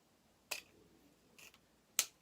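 Scissors trimming excess material from a skinny wreath, heard as three crisp, quiet snips spaced about a second apart, close up and isolated, with no talking.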